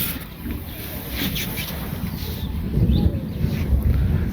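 A wooden boat rowed across calm, clear water, with a low continuous sloshing rumble mixed with wind noise, steady and close.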